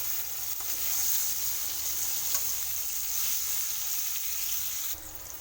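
Potatoes frying in oil for Bengali khichuri give a steady, close sizzle that keeps up without a break for the whole stretch, then drops slightly in level near the end.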